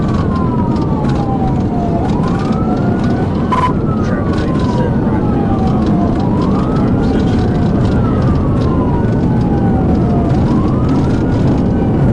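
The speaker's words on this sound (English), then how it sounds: "suddenly accelerated to about 100 miles per hour when Williams sounded the siren, fleeing from the stop." A police car siren wails in long rising and falling sweeps throughout, loud and steady over constant road and engine rumble during a high-speed traffic stop pursuit, with no talk.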